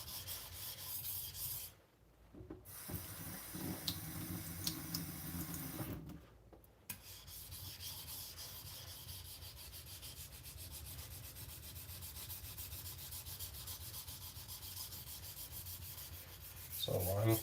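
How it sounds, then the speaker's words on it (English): A 52100 steel knife blade being sharpened and thinned behind the edge, giving steady abrasive rubbing strokes that run almost without pause, broken by two short silent gaps, close and moderately loud with no talking. "So I'm thinning now, basically sharpening and thinning out behind the edge"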